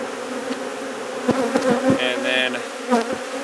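Honeybees crowd around a captured queen, buzzing near and steady with a few louder bursts, while a voice speaks briefly.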